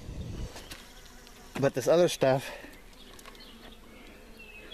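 Honey bees buzz steadily around an opened top bar hive during a spring inspection after winter losses, a soft close hum running under brief talk.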